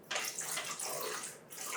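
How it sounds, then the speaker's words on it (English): Water streams steadily into yogurt for a doogh drink, a close, continuous pouring splash with brief breaks, heard on its own without talk. "I'm gonna start adding the water"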